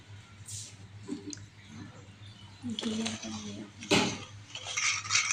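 A spoon stirs milk and ghee together in a bowl for biscuit dough, producing soft clinks and scraping against the bowl that grow busier toward the end, with a low steady hum underneath and speech at times.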